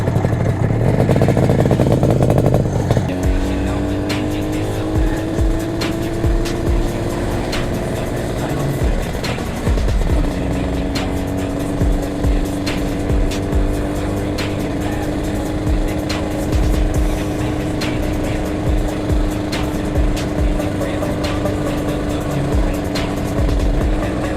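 A tuned IZh 400cc motorcycle engine runs steadily at idle and low revs, loud and close, with a brief rev at the start and again near ten seconds, plus light mechanical clatter throughout.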